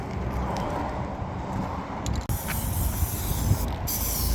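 An aerosol spray can lays a coat of paint on the inside of a fabricated starter recoil cover for a 1982 Honda 185S ATC trike, a steady close hiss with a brief pause midway before spraying resumes.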